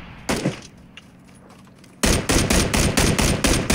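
Video game gunfire in PUBG Battlegrounds: a couple of isolated shots, then a sustained, rapid, loud automatic burst close by.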